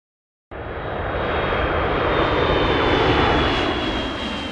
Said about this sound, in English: Air tanker plane.